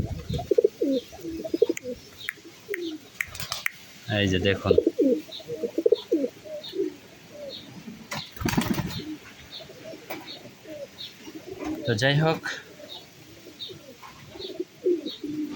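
Pigeons in a loft coo repeatedly in soft, rhythmic low calls, close by, continuing throughout with occasional chirps, while someone talks intermittently over them.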